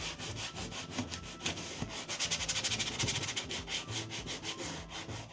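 Continuous harsh rubbing and scraping of an abrasive stripping paint off a wooden chest, with quick back-and-forth strokes that grow more rhythmic partway through.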